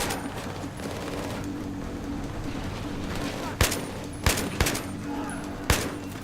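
Gunfire in the video game Battlefield 3, several sharp loud shots cracking over a constant murmur of battle ambience, with a voice talking during the clip.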